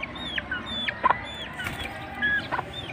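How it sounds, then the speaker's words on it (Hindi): Aseel Jageri hen with her chicks gives short clucks and chirpy calls, close by, scattered over steady background noise. "ये इनकी माँ है जी मुर्गी जो है"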